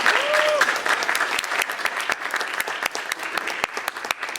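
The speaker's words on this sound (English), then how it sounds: "give Andrew Dotson a big round of applause and thank him for coming today" A talk audience breaks into sustained applause, a dense wash of many hands clapping that starts loud and gradually thins and tapers over several seconds.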